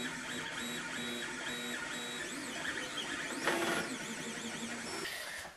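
A 3D printer printing a throttle handle, its stepper motors whining and chirping in steady, sweeping tones with a brief louder buzz midway, close and continuous.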